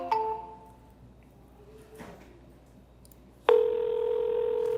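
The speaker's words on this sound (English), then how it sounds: "This one's ringing" A telephone ringback tone begins partway through an outbound call placed from a real estate investment office: a steady electronic ring that stays loud and continuous after a few faint earlier tones and a quiet stretch.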